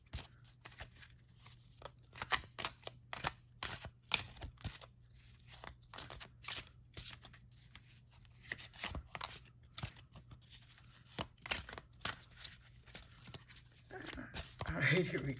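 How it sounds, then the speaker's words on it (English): Tarot cards are shuffled by hand in soft, rapid riffling bursts and flicks, close and fairly quiet, with brief pauses between runs. "let's just go ahead and get shuffling."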